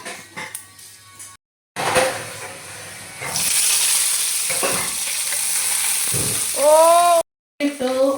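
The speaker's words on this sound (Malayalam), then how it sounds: "സാമ്പാർ താളിക്കാൻ താളിക്കാനായിട്ട് കടുകൊക്കെ വെച്ചിട്ടുണ്ട്, സെറ്റാക്കി. ഉലുവ ഇട്ടു." Mustard seeds and fenugreek sizzling in hot oil for a sambar tempering, with a loud close hiss and spluttering that rises midway and is broken by short pauses and voices talking.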